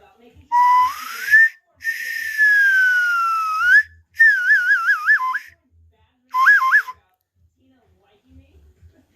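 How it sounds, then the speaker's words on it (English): A ceramic rocket ship whistle blown in several bursts, rising and warbling in pitch with short gaps between, loud and close, outdoors in a backyard. "Do you want to see the rocket ship whistle?"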